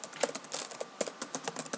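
Rapid clicking of keys on a computer keyboard during data entry, a steady stream of close, crisp taps with small pauses between bursts, no voices.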